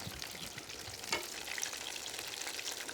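Leek fritters fry in hot oil with a quiet, steady crackling sizzle and one brief clink partway through, no voices.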